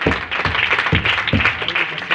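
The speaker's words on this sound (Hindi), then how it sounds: "एक बार जोरदार ताली" An audience at a religious gathering applauds a speaker, with dense, steady clapping that carries a loose rhythmic beat throughout.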